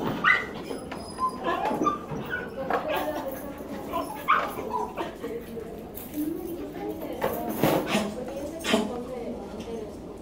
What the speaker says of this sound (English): There's our poodle dog.